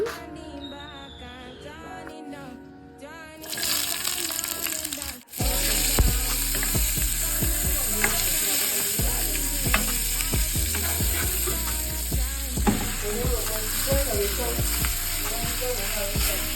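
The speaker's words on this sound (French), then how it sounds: "On va juste faire revenir à la poêle." Seasoned meat and peppers fry in oil in a pan. A quieter stretch gives way to a loud, continuous close sizzle, broken by sharp clinks and scrapes of stirring.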